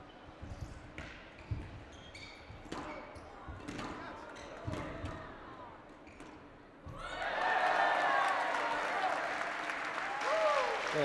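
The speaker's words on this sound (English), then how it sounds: "The New York crowd have suddenly woken up here." A crowd at a squash tournament in New York, the Tournament of Champions, bursts into loud, sustained applause. Before that come sharp ball strikes and squeaks on the court, echoing in a hall.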